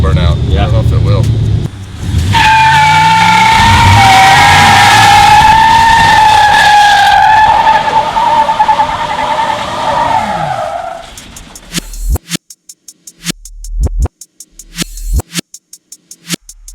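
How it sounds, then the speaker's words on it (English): A Cadillac with a blue interior does a burnout, its tires squealing in a loud sustained screech over revving engine noise for roughly ten seconds, followed by scattered clunks and thumps. "Maybe we can see if we can make it do a burnout."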